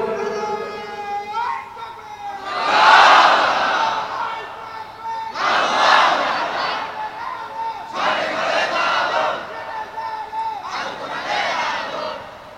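A crowd at a Bangla religious gathering shouts takbir in unison, four loud swelling bursts of massed voices repeating at regular intervals, with a lone voice leading between them.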